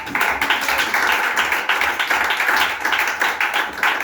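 A church congregation claps steadily to acclaim Jesus, dense applause from many hands, fairly close and continuous throughout.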